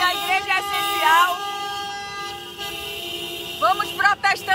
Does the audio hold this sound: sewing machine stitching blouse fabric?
no